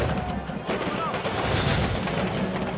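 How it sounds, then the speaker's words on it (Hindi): Dense firecrackers going off at a Ravan effigy burning during a Dussehra crowd gathering, a continuous rapid crackle and thud of bursts filling the whole stretch, loud and close with no pauses. "फिर वीआईपी लोगों की मौजूदगी में रावण को जलाने के लिए इतने पटाखों का इस्तेमाल"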